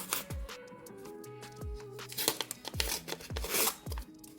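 Figure packaging is torn open close up, with several sharp ripping strokes and crinkling plastic and paper in an irregular rhythm, loud and alone.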